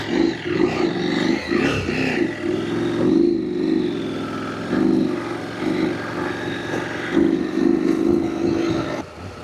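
Adventure motorcycle ridden two-up up a mountain road in Baja, its engine a steady droning hum that rises and falls with throttle, with rushing wind throughout.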